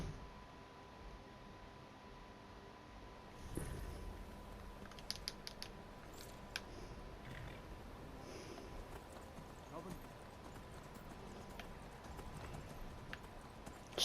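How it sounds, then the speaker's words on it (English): Horse hooves clip-clopping along a road in the video game Skyrim, a steady rhythmic trot under ambient game sound, with a few sharper knocks and a faint steady tone throughout. "get on your horse, turn around, and start heading south."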